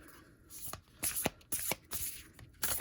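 A deck of tarot cards is riffled and bridged in several quick shuffles, each a short crisp burst of fluttering card edges, close up with quiet gaps between.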